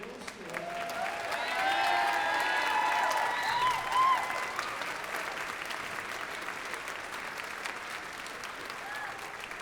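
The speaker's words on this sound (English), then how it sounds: "Can we give it one more round of applause for our upper elementary school and middle school?" An audience at a school band concert applauds the upper elementary and middle school bands, a steady wash of clapping from many hands that swells briefly, then holds at a fairly loud level for nearly ten seconds without talk.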